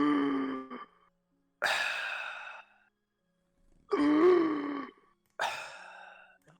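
A voice imitates deep, heavy breathing with slow, drawn-out sighing inhales and exhales, four breaths with pauses between them, close and alone.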